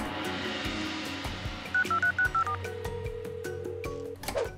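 A bamboo phone being dialed in a cartoon, a quick series of short, clear dial-tone beeps heard over bright background music, followed by a brief rising chime.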